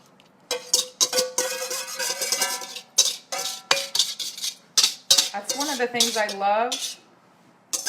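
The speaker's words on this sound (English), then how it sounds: "I'll spare you the metal on metal there." Metal utensils clank and scrape against a metal pot of creamy ranch pork chops in quick, busy bursts, close by, with a short spoken remark over the clatter.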